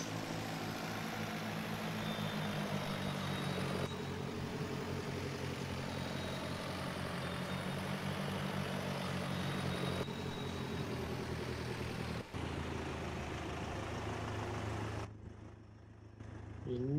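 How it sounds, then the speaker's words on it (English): A steady low engine rumble of a bus driving, continuous and close, with a brief shift near the end as the sound drops. "I'm just gonna be driving"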